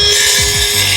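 A power saw whines steadily as it cuts wood for a raised garden bed, a close, loud, brief burst of high-pitched buzzing.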